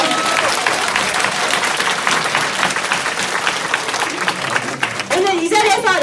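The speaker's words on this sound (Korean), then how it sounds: "박수 한번 치겠습니다" Audience applause at a business seminar, loud, dense clapping filling the room throughout, with a speaker's voice cutting in near the end.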